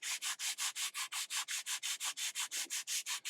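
Steady back-and-forth hand sanding of a wooden dulcimer headstock, about sixteen even strokes in a quick regular rhythm, close and fairly loud, with no talking.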